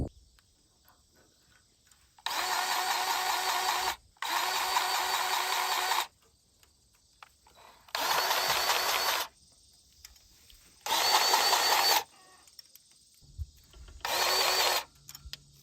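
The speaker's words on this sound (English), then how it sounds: "just how easy something like a battery-powered grease gun can make greasing a tractor like this behind me" A battery-powered DEWALT 20V MAX grease gun greasing tractor zerks, its motor whirring in five separate bursts of about one to two seconds each, separated by near silence, loud and close.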